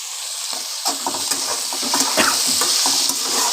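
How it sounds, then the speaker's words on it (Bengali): Chopped tomatoes hitting a hot pan with chillies already frying, a dense close sizzle broken by repeated scraping and clinks of a spoon stirring against the metal. "টমেটো কুচি রেখেছি সেটাও দিয়ে দিলাম"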